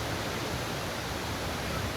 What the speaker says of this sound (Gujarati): વોટરફોલ જુઓ ગાઈઝ, પાણીનું કેટલું બધા ફુવારા ઉડે છે